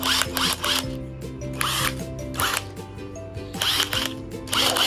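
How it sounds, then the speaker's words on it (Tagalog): A battery-powered high-torque drill drives self-screwing screws in several whirring bursts with pauses, loud and close, its motor pitch shifting as each screw bites. "Ngayon, i-drill natin sa taas yung mga locking system niya."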